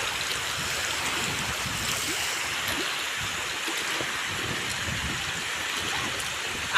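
Steady rushing water of a shallow stream where small carp caught in a cast net are let go, an even broadband babble at close range that continues without a break, with no talk.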